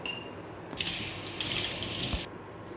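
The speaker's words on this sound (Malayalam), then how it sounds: "ഞാനൊന്ന് കൈ കഴുകിയിട്ട് വരട്ടെ കേട്ടോ" Tap water runs into a sink during handwashing, a close steady gush that changes tone as hands move under the stream and stops briefly, with no talk.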